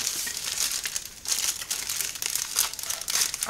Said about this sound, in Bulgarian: Току-що си взех Пинкс кутията и я разопаковам